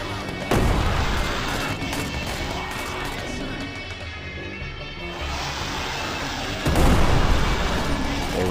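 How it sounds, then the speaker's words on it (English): Mortar fire in the video game Plastic Battlegrounds, set in a Vietnam zombie attack: heavy booming blasts and crashes, a loud thump near the start and another near the end, over constant rumbling gunfire. "There was a mortar."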